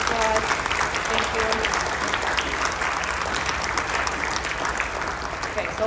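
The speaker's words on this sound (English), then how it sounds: "final round of applause for all of our performers" A concert audience seated in an auditorium gives performers a sustained round of applause at the fall concert, steady, full clapping that holds for several seconds with light voices mixed in.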